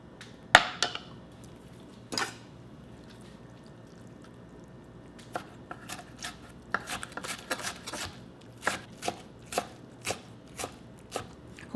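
A knife chops fermented, sour kimchi into small pieces on a board, with sharp, irregular taps in scattered bursts, some close together, standing alone without talk.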